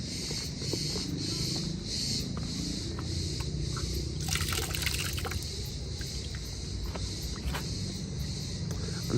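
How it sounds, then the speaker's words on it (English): Water runs and trickles steadily in a narrow street of Evdilos on Ikaria, a continuous outdoor wash of flowing sound with brief scrapes and clicks over it. "Well, it is running water."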